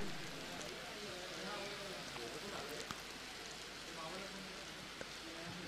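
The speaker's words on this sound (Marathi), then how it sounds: "जोरदार पाऊस मैदानामध्ये सुरू आहे आणि या पावसाळी वातावरणामध्ये क्रिकेट" Heavy rain falling on a cricket ground during a local tournament match, a dense, even hiss of downpour with occasional faint knocks, fairly quiet overall.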